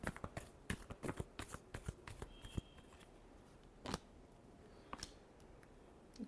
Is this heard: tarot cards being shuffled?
yes